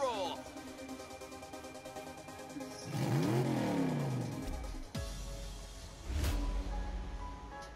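A race car engine in the Team Sonic Racing video game revs up with a rising, sweeping whine, cuts off sharply, then roars back in a loud burst, with the game's music playing underneath.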